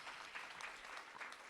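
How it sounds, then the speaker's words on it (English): Quiet, distant round of applause from a conference audience for the panelists at the close of a session, a brief, even patter of many hands at low level. "please give a round of applause for our panelists"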